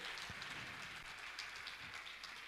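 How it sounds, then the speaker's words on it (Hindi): A large audience in a Jain religious gathering honouring a revered muni breaks into loud, sustained applause, a dense continuous wash of clapping filling the hall without pause. "मैं चाहूंगा इनके सम्मान में आप जोरदार ताली बजाकर इनका सम्मान करें।"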